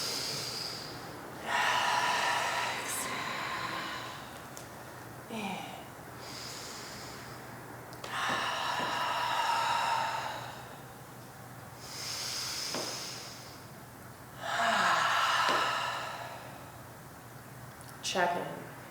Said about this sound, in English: 3 cleansing breaths.